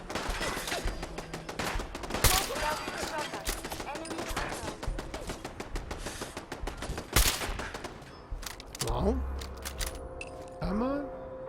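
Rapid bursts of gunfire in the video game Fallout 4, dense overlapping shots and fusillades running steadily with a few louder reports standing out, ending in calmer game sounds, with talk over it.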